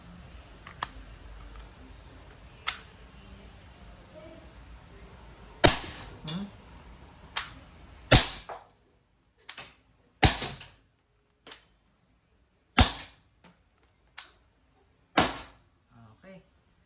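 An Umarex T4E CO2 revolver fires .50 calibre rubber balls at a target plate, giving about ten sharp, separate pops at irregular intervals, each with a brief ringing tail, over quiet background with faint talk early on.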